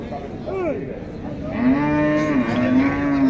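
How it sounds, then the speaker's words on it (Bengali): A large Holstein Friesian dairy cow at the traditional Matazi cattle market in Naogaon gives a loud, close, drawn-out moo, with a shorter call just before it and faint market noise behind. "আপনাদেরকে আমি হলস্টেন ফ্রিজিয়ান দুধের গাবি এবং বাছুর দেখাই"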